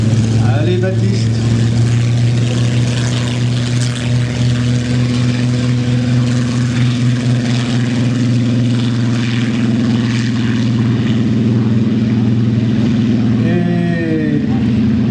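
A propeller warbird with a big Rolls-Royce Griffon engine and large propeller flies at the Ferté-Alais airshow, its steady, loud droning hum holding across the whole pass while a commentator talks over it.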